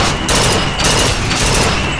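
Rapid, loud, close-up gunfire from a gun in a video game, a dense fusillade of shots with heavy booming impacts filling the whole moment without talk.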